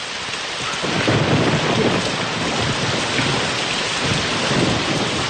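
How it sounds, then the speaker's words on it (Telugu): Heavy rain pours steadily onto surfaces while low thunder rumbles underneath, a dense, loud, unbroken downpour with no one talking. "వర్షం పడుతుంది"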